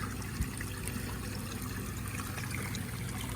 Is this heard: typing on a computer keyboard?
no